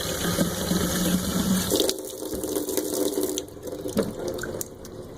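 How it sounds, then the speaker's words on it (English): Water runs from a tap into a container for a marble painting project, a steady rushing stream that shifts tone partway through as the vessel fills, close and fairly loud with no talking. "And then you're going to fill this with water."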